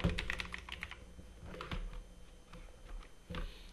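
Shortcut keys being pressed on a computer keyboard while working in Microsoft Word 2021: a quick run of close, crisp plastic key clicks and taps, some in bursts, with no talking.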